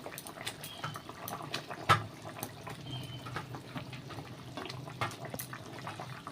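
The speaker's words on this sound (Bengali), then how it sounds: "দেখুন ঝোলটা আমার কিন্তু ফুটে উঠেছে।" Snakehead fish curry (Bengali gravy) simmering in a pot on a home kitchen stove, a steady close bubbling and hissing with a brief louder splash near two seconds.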